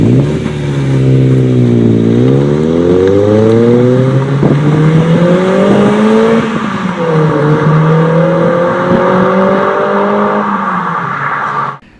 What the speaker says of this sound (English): So here's a clip of a Prelude.